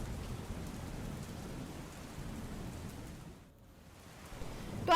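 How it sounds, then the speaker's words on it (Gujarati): Steady heavy rain hissing down at Ambaji, Banaskantha, a dense even wash of drops that dips briefly before a sharp sound at the very end. "બનાસકાંઠા જિલ્લામાં અનરાધાર વરસાદ"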